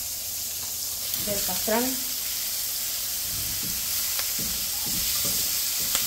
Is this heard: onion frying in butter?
yes